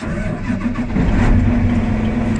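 A John Deere 9620RX tractor engine starts up and settles into a loud, steady diesel rumble with a strong low drone, close by and with no talk over it.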